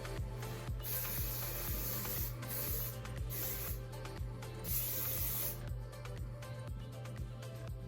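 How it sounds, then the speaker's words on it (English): Garnier Fructis hairspray hisses from an aerosol can in short close bursts, four or five sprays separated by brief pauses, over a low steady background hum. "Now I'm going to use my Garnier Fructis hairspray."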